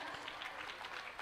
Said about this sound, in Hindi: सदन में उपस्थित सभी लोगों को जोरदार तालियों से इन छात्राओं का